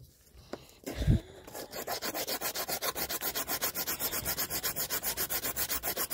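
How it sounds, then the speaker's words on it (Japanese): A resin flower keychain being filed by hand with a file, a steady back-and-forth rasping in a quick, even rhythm that continues close up and fairly loud after a brief knock. "ヤスリでうまくいくかな。"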